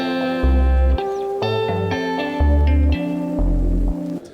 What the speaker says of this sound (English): I've got a bass guitar section, which sounds like this